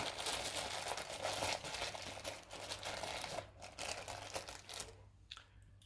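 Plastic trail mix bag crinkling and rustling continuously as it is packed into a Topeak Fuel Tank bike top-tube bag, close and fairly steady, fading out near the end.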